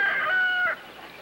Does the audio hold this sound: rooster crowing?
yes